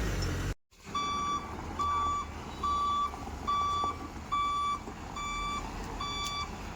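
A truck's reversing alarm beeps at an even, regular pace, about seven tonal beeps over a low idling engine rumble, fairly close and clear after a brief dropout at the start.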